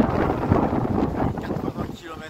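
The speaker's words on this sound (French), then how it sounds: "le vent souffle toujours sur les sables avec des vents de 80 km/h actuellement" Strong storm winds of about 80 km/h from the west buffet and roar across the microphone in gusts on the coast at Les Sables d'Olonne, with a voice talking over it.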